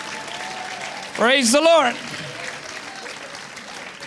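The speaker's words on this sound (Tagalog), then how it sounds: "tuloy niyo palakpak mga kapatid para sa Panginoon yung malakas" Church congregation applauding during a worship service: a steady wash of clapping continues throughout, and a loud voice calls out briefly over it near the start.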